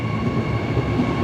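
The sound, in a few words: Brisbane Airport AirTrain departing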